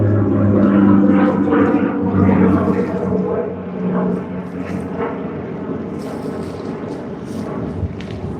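A Dash 8 turboprop at Sydney Airport during the early-morning peak, heard as a loud droning engine rumble with a steady tonal hum that eases slightly partway through.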